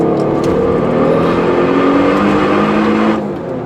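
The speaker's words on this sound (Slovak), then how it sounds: "je počuť aj motor, ale aj ten výfuk" Alfa Romeo 147 GTA engine and exhaust while driving, a steady loud drone of the motor with a throaty exhaust note, holding an even pitch throughout before easing slightly at the end.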